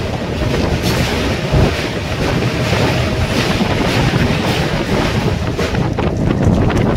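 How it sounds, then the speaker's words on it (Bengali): Goghat local train crossing the Damdama girder bridge, a steady loud rumble of wheels and wind buffeting throughout, with rattling rail noise and no voices. "ব্রিজটি অতিক্রম করলো গোঘাট লোকাল।"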